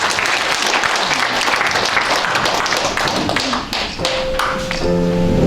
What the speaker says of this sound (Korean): 자, 박수 한번 크게 보내주시고요.